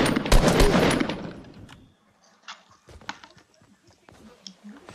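Rapid automatic rifle fire in a video game rattles loudly for about two seconds and then cuts off, followed by scattered soft clicks and small thuds.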